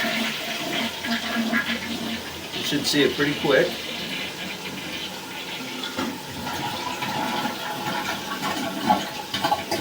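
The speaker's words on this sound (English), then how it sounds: "We're going to flush it real quick" A household toilet with a broken flapper is flushed, producing a rushing, gurgling swirl of water followed by refilling, while people talk over it.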